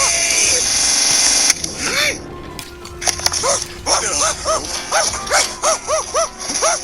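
Iggy the dog barks in a burst of sharp, close yips and bow-wows in quick succession after a stretch of high whining noise, with voices talking around it.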